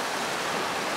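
Steady broadband rush of a clear river flowing nearby, dense and continuous with no pauses, loud and close like water tumbling over rocks in a stream.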